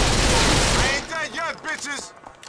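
Gunfire from GTA IV: The Ballad of Gay Tony at a fairground, a dense burst of shots up front followed by several sharp, ringing reports, while someone talks.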